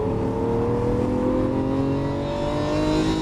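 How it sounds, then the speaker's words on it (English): A Lamborghini Aventador at full throttle on a race track, its engine note climbing steadily in a loud, continuous howl heard close from inside the car, with no talk over it. "Roll the power all the way in full throttle"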